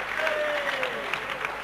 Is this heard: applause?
yes